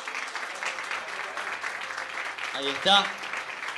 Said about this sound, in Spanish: Quiero llamar y un fuerte aplauso, por favor